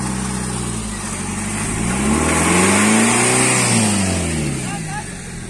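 A Mahindra Thar SUV engine revs loudly and rises to a peak midway while recovering a stuck car, then eases back, with people talking nearby throughout.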